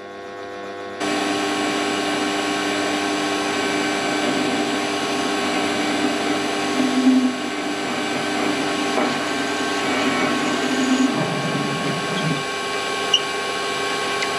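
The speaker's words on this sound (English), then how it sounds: "next thing I'm going to do is centre drill it" A metal lathe hums steadily with strong tonal drone throughout as a centre drill cuts in, with a brief lower grinding near the end.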